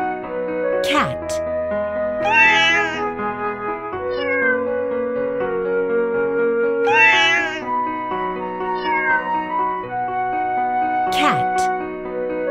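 A cat meows several times in drawn-out, rising and falling calls set over continuous cheerful background music in a children's animal-sounds learning game.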